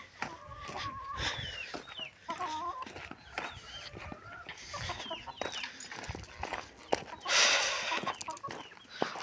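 Turkeys and other poultry in a farmyard, with a broody turkey among them, giving repeated close clucks and short warbling calls in an uneven, busy stream with scattered rustling.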